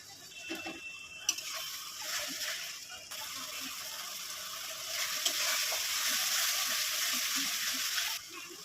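A spice paste of ginger, onion, garlic and chilli fries in a pan for a yogurt rohu fish curry, giving a steady close sizzle with occasional stirring clinks and no talk.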